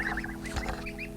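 Young geese give soft, high clucking and peeping calls, several overlapping chirps close by within a short moment, with a steady low background hum underneath.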